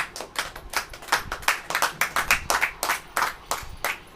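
A church congregation claps steadily during a Hindi sermon, a dense run of close, fairly even hand claps lasting a few seconds with no talk over it.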